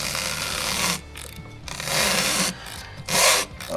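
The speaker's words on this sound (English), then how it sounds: "you can hear it turning on the rubber seal" A fuel filter on a Peugeot Partner or Citroen Berlingo being turned on its rubber seal gives repeated close scraping, rubbing bursts, three of them in a row, separated by short pauses.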